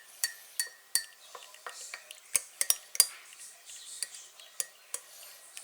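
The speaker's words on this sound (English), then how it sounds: "I'm going to stir this one." A spoon stirring a cup of tea, its sharp metallic clinks against the cup coming in an irregular run, some close together, with faint background noise and no talking.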